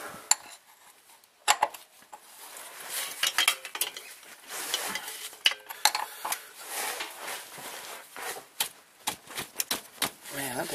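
A 17mm wrench works the oil drain plug on a 2006 Dodge Dakota, giving close, irregular metallic clicks and scrapes in uneven bursts, with brief quiet gaps between turns.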